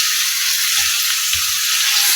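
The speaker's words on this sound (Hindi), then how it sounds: "इसको अच्छी तरह से इसमें फ्राई कर लूँगी।" Minced meat keema with green chillies fries in a pan over medium flame, making a steady close sizzle with a couple of soft low knocks from stirring.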